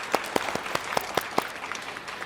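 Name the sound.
audience applause welcoming a guest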